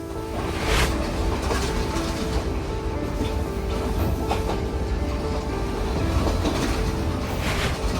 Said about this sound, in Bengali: প্রতি পাঁচ মিনিট পর পর লাইনে আসে একটি করে ট্রেন চলতি পথে রেল লাইনের ওপর আছড়ে পড়ছে ভারত মহাসাগরের ঢেউ